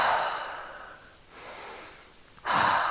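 Two slow, audible breaths during a yoga pose in a veteran and first responder class, a long exhale tapering off, a short quiet pause, then a strong new inhale, close and alone.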